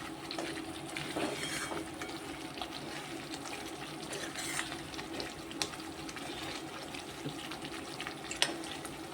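Semolina roasting in ghee over medium heat for sheera, stirred steadily, giving a soft continuous sizzle with light scraping and stirring clicks, faint and close, with no talk.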